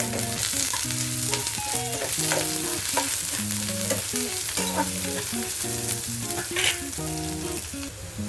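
Cashews and whole garam masala frying in a pan for egg curry, a continuous loud sizzle with faint crackles, accompanied by steady background music and no talking.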